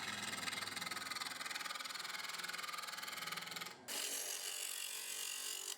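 A 19mm bowl gouge cuts timber on a wood lathe while shaping an octagon winged bowl, giving a loud, steady grating rasp that breaks off briefly and then resumes just as strongly.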